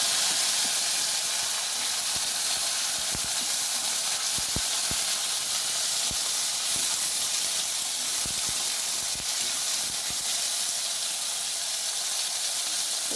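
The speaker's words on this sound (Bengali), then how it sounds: "তো এটা ভাজা ভাজা হয়ে যাক" Vegetables frying in oil tempered with cumin give a steady, loud hiss that runs the whole time, with scattered sharp crackles and pops. No one speaks.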